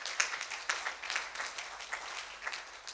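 Church congregation applauding during a French-language worship sermon, a steady wash of many hands clapping at moderate loudness with no talk over it.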